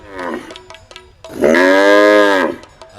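A male buffalo gives a short low call and then a loud, drawn-out bellow lasting about a second, close and clear against a quiet background.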